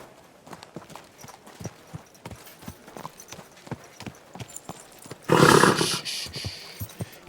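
Hooves clip-clop in an even, moderately close walking rhythm from a horse in the medieval game Kingdom Come Deliverance II, followed by a sudden loud burst of noise near the end.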